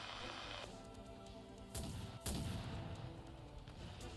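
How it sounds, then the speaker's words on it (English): Cannon fire in the video game Arknights: two sharp booming impacts a half second apart, heavy and fairly loud over a sustained droning background. "The cannon fire is drawing closer."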